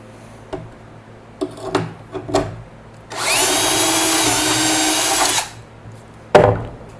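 A power drill bores shelf pin holes into wood through a Kreg shelf pin jig: a loud, steady whine of about two seconds after a few knocks and handling clatters, with another thump at the end.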